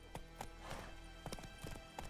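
Roach, Geralt's horse in The Witcher 3, gallops with rapid hoof clip-clops close up, joined by brief snorting and whinny-like bursts over a steady game soundscape.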